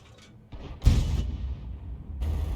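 An M44 self-propelled artillery gun fires a shell in a tank game, a single loud booming report followed by a fading rumble, with softer clicks before it.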